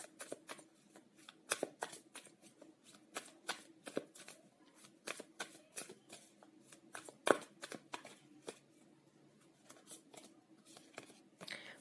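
Tarot cards being shuffled by hand during a reading, with a long run of quiet, rapid riffling and flicking of card edges, steady and close, without speech.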